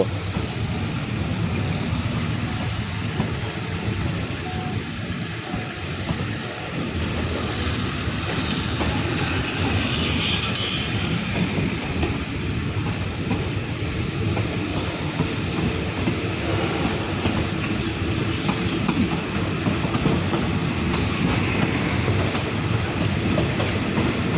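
A passing passenger train, No. 102 from Chiang Mai to Bangkok, rumbles steadily along the tracks near Lampang, Thailand, with a continuous loud roar and faint rhythmic clatter of wheels.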